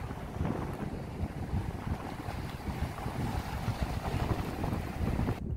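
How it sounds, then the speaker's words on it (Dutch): Sea waves wash continuously onto a beach, mixed with heavy wind buffeting the microphone. The rushing surf stays fairly constant, with no voices. "Oeh, golven."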